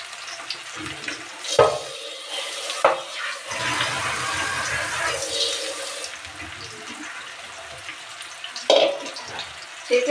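Blanched drumstick flowers are strained out of hot water in a kitchen, with water pouring and draining in a steady rush, broken by a few sharper splashes and clatters.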